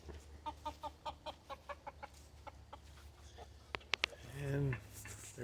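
Series of rhythmic clucks from chickens on a farm, about a dozen short pulses close by, followed by a few sharp knocks and a louder squawk.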